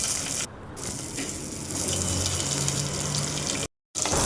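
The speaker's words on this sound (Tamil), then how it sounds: "இப்போ சின்ன வெங்காயம் பொன்னிறமாக வர்ற வரைக்கும் நல்லா வதக்கி விட்டுக்கலாம்" Small onions sautéing in hot oil with cumin and pepper for a village-style fish curry, a steady close sizzling hiss that carries on throughout and cuts out briefly near the end.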